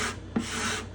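A hand scraper cuts across a metal surface with a short, faint rasping scrape and a brief stroke in the middle, heard close and alone.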